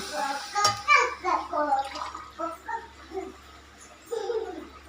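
Coconut milk being poured into a measuring glass in a home kitchen: a soft, splashy liquid pour heard close, mostly under ongoing talking.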